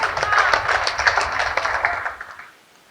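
An audience at a Hindi poetry event claps, a moderate spell of scattered hand claps that tapers off and fades to near silence in the final half second.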